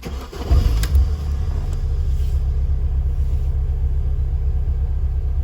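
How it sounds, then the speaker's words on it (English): A BMW Mini Cooper R50 engine cranks briefly and catches, rising to a loud burst before settling into a steady, close idle rumble that runs to the end. "if you turn the ignition on, Laura, and start it, you might as well start it"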